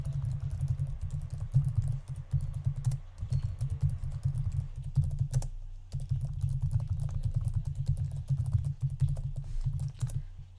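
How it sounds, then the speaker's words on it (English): Steady typing on a computer keyboard while entering a list of scan targets into a text file, a fast run of close clicky keystrokes that continues throughout with a short pause about halfway. "So let me type those out."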